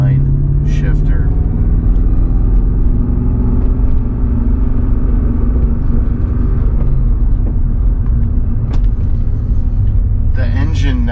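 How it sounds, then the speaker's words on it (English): A BMW E39 with lightened pistons and a restored engine drones at steady revs while driving, a continuous loud low rumble with road noise throughout and brief higher bursts near the start and end. "The engine now revs with such ease"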